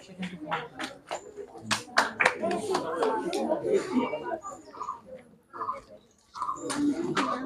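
At a student felicitation ceremony, an audience claps in uneven bursts of applause, fairly close, mixed with talking voices and with a short lull before the clapping picks up again.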